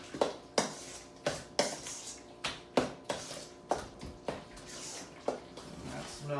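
A utensil stirs lemon juice into an artichoke jalapeno dip in a kitchen, scraping and knocking against the bowl in a regular rhythm of about a dozen sharp clinks, close and clear.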